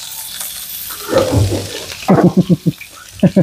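Water poured and drained out of a cooking pot into a sink during preparation of dahi tadka baingan, a splashy running gush followed by several short sloshing bursts, close and fairly loud.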